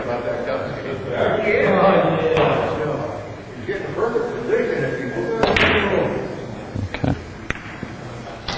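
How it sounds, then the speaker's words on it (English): Pool balls struck with a cue during a practice session, heard as a few sharp clicks and knocks late in the clip, partly under a man's speech. "go ahead and hit a few balls"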